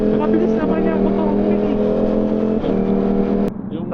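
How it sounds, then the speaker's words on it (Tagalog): Ducati motorcycle engine revving loudly nearby, a sustained droning tone that dips briefly and returns before cutting off abruptly, with voices talking over it. "Mabilis naman yung motor."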